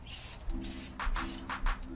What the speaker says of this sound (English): Keep moving around the wheel and keep spraying at an even distance so you don't get any runs in your paint.